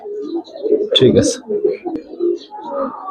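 Racing pigeons of a foreign bloodline cooing at a farm, soft low throaty coos close by, mixed in with someone talking over them.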